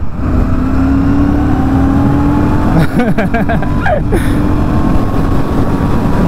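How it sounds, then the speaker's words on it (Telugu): Loud, steady engine drone with wind rush, rising in pitch as a 2025 Royal Enfield Classic 650 motorcycle accelerates, broken by a brief gear-change stutter midway. "ఒకసారి ఇంజన్ పుల్ చూడొచ్చు"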